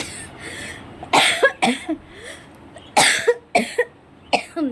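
A woman coughs in repeated harsh bursts, two clusters of three or four coughs each, close and loud in a quiet indoor room.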